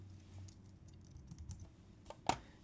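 Fingers type on a computer keyboard while entering text in music production software, with soft, irregular key clicks spaced across the clip and one sharper, louder keystroke near the end; the tapping is quiet and close, with no talking.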